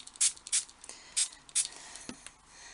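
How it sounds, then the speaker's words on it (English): A spray bottle squirts water onto a craft stencil, giving four quick close spritzes at irregular intervals with faint handling noises between them. "I'm just going to spray the stencil"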